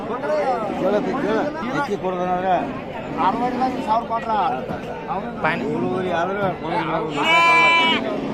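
Sheep and lambs bleat repeatedly at the Gokak sheep and lamb market in Karnataka, several close, wavering calls mixed with people chattering and bargaining in the busy crowd.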